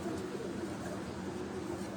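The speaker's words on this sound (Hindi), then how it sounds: "ये उसका मेल जो नर कबूतर है" Male pigeon held in a keeper's hands on a rooftop loft near Rawat, giving a low, soft, continuous cooing close by, with steady background noise and no talking.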